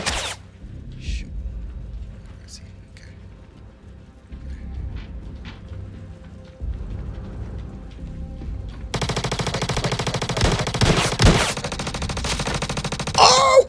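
Gunfire in the Star Citizen first-person shooter comes in scattered shots, then in dense, loud bursts of rapid automatic fire through the final few seconds.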